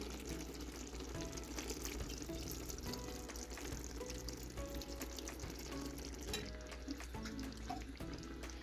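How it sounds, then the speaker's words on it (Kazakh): Water is poured over Tashkent-style Uzbek plov in a pot, a steady, faint wash of running liquid over a low background hum that continues evenly throughout, with no voices. "Енді осының үстінен азғантай ғана суымызды құйып шығамыз."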